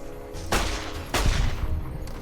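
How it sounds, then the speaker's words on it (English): Gunfire in Fallout New Vegas during a prison riot, two sharp loud shots about half a second apart, each followed by a short rumbling tail, over a steady game background. "you're shooting at me from down there."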